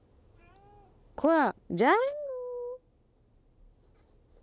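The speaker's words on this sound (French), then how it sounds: "Vous avez vu un chat jaloux comme ça dans votre vie?" A jealous pet cat lets out two loud, close meows, the second long and drawn out, with a short spoken word heard nearby.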